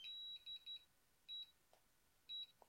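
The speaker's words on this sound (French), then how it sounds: "elle va continuer à biper pour me dire ok, je suis en return to home" DJI FPV remote controller beeping in return-to-home mode: a repeating pattern of short, high electronic beeps in small groups, quiet and close, with faint clicks between them.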